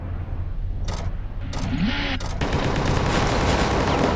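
Spaceship weapons fire in a space combat in the game Starfarer: a few sharp bursting shots, then a sustained loud roar of rapid fire over a low game rumble.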